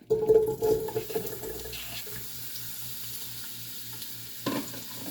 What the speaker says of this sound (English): Still not hot enough, but I'm gonna put in the onion